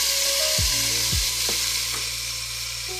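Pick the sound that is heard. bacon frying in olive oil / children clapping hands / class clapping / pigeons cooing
bacon frying in olive oil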